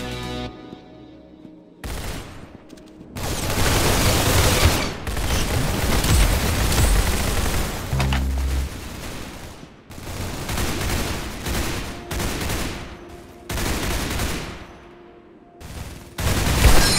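Gunfire in Roblox Arsenal, loud sustained bursts of automatic shooting broken by short pauses, dense and close, with blasts mixed in and no talking.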